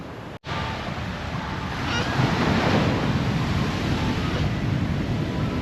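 Ocean surf rolls onto a beach in Nha Trang, a continuous loud wash of breaking waves mixed with wind buffeting the microphone, after a brief dropout at the start.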